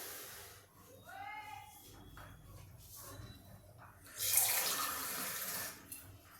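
After some quiet talking, water pours into a pot for dal in a short, hissing splash for about a second and a half, then fades.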